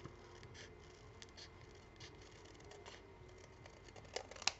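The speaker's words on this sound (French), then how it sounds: "vous allez découper le tour de votre papier" Scissors snip around paper being cut out for a handmade card, small quiet crisp cuts close up in a still room.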